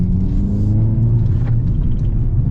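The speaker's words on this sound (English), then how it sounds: "I'm just going around the roundabout here to see the handling" A 2023 Hyundai Elantra N drives around a roundabout, a loud, steady low engine rumble from inside the cabin with a faint rise in revs, and no talking.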